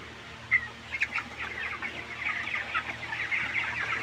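Broiler chickens in a shed with damp, worn-out litter cluck steadily, with a sharp squawk near the start and overlapping calls from the flock that build slightly toward the end.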